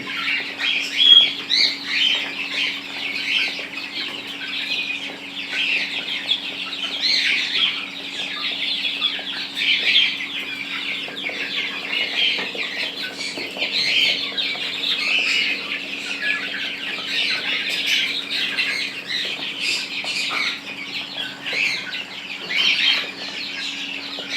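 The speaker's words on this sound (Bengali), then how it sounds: "দেখুন কিভাবে মুরগিগুলো খাবার খাচ্ছে" A flock of Fayoumi chickens clucks continuously while eating, overlapping calls and soft scratchy pecking sounds filling the scene, fairly close.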